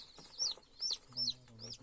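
On a small poultry farm with dozens of chickens and chicks, faint high-pitched peeping calls repeat about four times in a quiet setting with low background noise.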